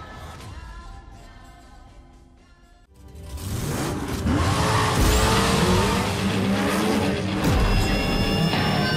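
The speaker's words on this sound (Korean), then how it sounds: "포르자 호라이즌 5 핫휠은 엑스박스를 대표하는 오픈월드 레이싱 게임 포르자 호라이즌 5와 미니카 브랜드 핫휠이 콜라보레이션한 확장팩" After a quieter stretch of engine whine, race cars in the Forza Horizon 5 Hot Wheels expansion burst into loud, sustained tire skidding and squealing over roaring engines, dense and continuous with no speech.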